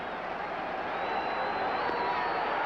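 Baseball stadium crowd at the 1984 NLCS, San Diego versus Chicago, in a steady broad roar that swells slightly as fans rise to their feet, continuous and moderately loud throughout.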